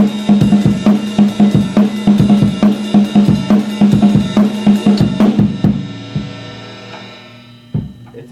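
A fast self-made drum beat on a kit pounds out rapid, dense, evenly spaced hits for about six seconds, loud and close, then stops and lets a cymbal ring out, followed by one last isolated hit.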